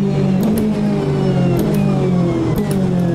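A Corvette GTE race car in the Automobilista 2 sim, its engine droning loudly at high revs with a few gear shifts and brief lifts, a steady close-up in-car roar throughout.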